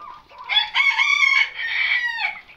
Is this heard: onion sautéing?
no